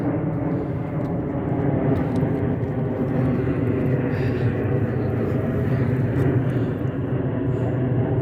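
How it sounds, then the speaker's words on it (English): An aircraft passes overhead as a steady, broad low rumble that stays loud and even across the whole stretch, with no pauses and no clear voices. "So whenever I hear the sounds of aircraft, I feel very excited"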